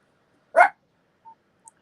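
A small dog gives a single short bark in a quiet room, followed by two faint soft ticks.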